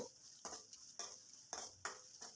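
Chopped onions and green chillies fry in a pan for a Karnataka-style cluster beans stir fry, with soft sizzling and several distinct stirring scrapes at an uneven rhythm, fairly quiet and close.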